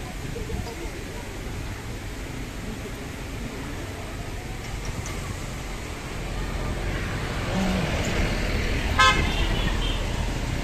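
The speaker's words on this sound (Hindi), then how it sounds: "ये हमारी गाड़ी आती हुई," A car approaches at the ISKCON Temple entrance in Bengaluru, with a steady roar of traffic that swells toward the end and a short horn honk near the close, heard under someone talking.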